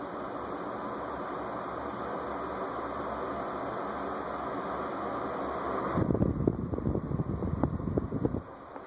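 Fanimation Beckwith ceiling fan model FP7964BN spinning on medium speed, a steady close whoosh of moving air and wind noise with faint tonal hum, growing rougher and more turbulent toward the end.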